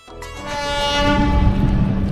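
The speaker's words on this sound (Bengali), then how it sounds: "ট্রেন ছেড়ে দিল আমাদের হাওড়া টু ব্যাঙ্গালোর এসএমভিটি দুরন্ত এক্সপ্রেস" The Howrah–Bangalore SMVT Duronto Express departs, a long blaring train horn swelling up nearby and holding over the rumble and clatter of rolling carriages, with no talk.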